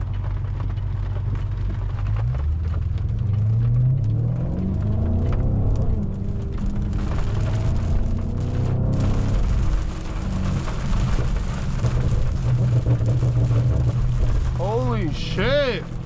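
Steady heavy rain hisses and drums on a BMW G30 M550i under a low engine rumble, with a voice speaking at times.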